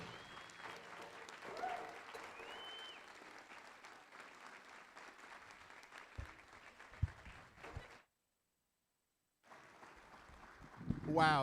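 Audience applause at a school board dedication ceremony, steady clapping spread across the room for about eight seconds, then a brief silence before clapping swells again near the end.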